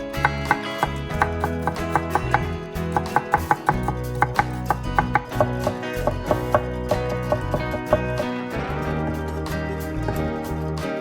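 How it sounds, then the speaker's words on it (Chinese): Garlic cloves minced with a kitchen knife on a cutting board, a close run of sharp, rapid chops in irregular bursts over a faint background tone. "然后切成蒜末"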